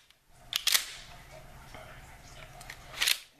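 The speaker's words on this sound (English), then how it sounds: "here's how you release the pump" Sharp metallic clicks from working the pump release on a Mossberg 500 .410 shotgun with a wooden stock, a couple of close clacks early and another near the end, over quiet room tone.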